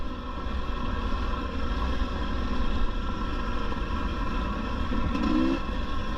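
A 2022 GasGas EC 300 two-stroke enduro motorcycle drones along at steady revs, its continuous engine note rising and falling slightly over several seconds and heard alone.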